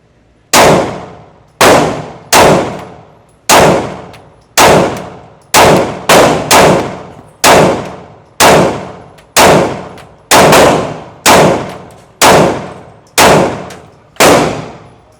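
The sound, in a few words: gunshots from M&P Shield X 9mm pistol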